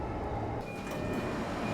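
A JR Chuo Line train passes on the opposite track at an elevated two-platform station, a steady rumble of wheels and motors filling the whole stretch at moderate loudness with no voices.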